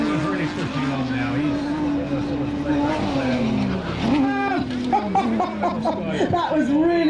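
A race car driven hard at the Goodwood Festival of Speed, its engine droning loudly and continuously with shifting pitch and a brief tire squeal, under steady commentary from a man.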